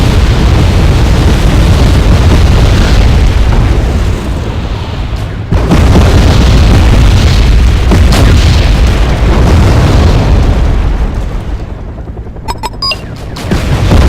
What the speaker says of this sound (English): And now they're shooting back at Mike's artillery because Mike was shooting them with his artillery.